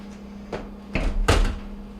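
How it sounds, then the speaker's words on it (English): A GE stove oven door is lifted off its hinges and set aside, giving a few sharp metallic clunks and thumps, the loudest near the end, close and alone. "we're going to go ahead and take off this oven door. You just pull straight up and you can go ahead and set it to the side."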